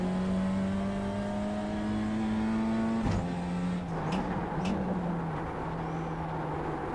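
BMW race car engine in a racing video game, a steady high drone that climbs through the gears, then a quick downshift burst and a lower, uneven throttle note afterward, loud and constant with no talk.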